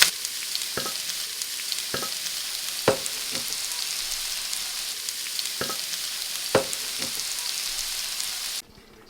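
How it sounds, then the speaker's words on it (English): Garlic and noodles fry in oil in a pan, a continuous bright sizzle broken by occasional sharp taps of stirring, close and steady until it cuts off at the end. "the garlic has been kind of frying with the oil, flavoring, and now I'm dumping in all these noodles"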